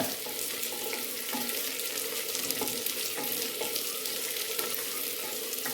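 Tomatoes frying and being stirred in a pan for a chutney, a constant close hiss of sizzling oil broken by regular soft knocks of the spoon against the pan.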